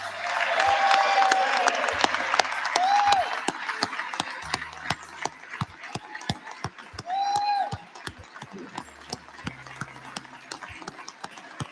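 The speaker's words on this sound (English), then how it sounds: "Everyone standing and applauding, everyone in the House chamber." Members standing in the House chamber applaud the clerk with scattered, uneven claps, fairly faint and spread through the room, with a few brief tonal sounds rising over the clapping.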